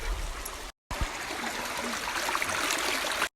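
A river stream flowing over slippery rocks, a steady close rushing and trickling of water that cuts out briefly near the start before resuming.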